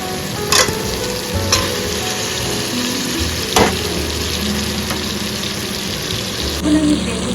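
Stingray fish dropped into hot oil and spiced masala, a steady loud sizzle and frying hiss running throughout with a few sharp spatters and stirring clatters, no talking.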